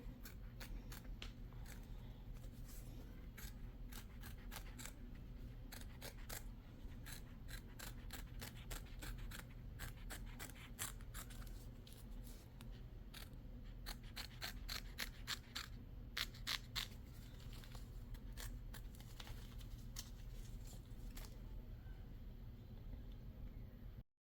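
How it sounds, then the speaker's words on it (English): Scissors snip steadily close to the stitching while trimming appliqué fabric, a run of crisp, close cuts over a low background hum, with no talking. "get it as close as you can without cutting the stitches"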